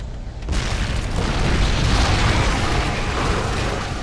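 A large explosion in StarCraft II: Wings of Liberty erupts abruptly and settles into a sustained, loud, roaring rumble that fills the rest of the moment without fading.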